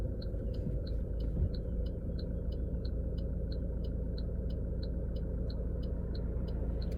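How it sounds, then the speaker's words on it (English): A 2012 Alfa Romeo Giulietta heard from inside the cabin, a steady low engine and road drone filling the car, with a faint regular ticking, like an indicator, repeating over it. "The engine noise isn't too bad either"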